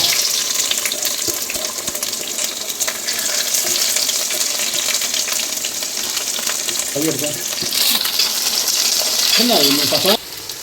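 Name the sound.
mustard seeds frying in oil for fish curry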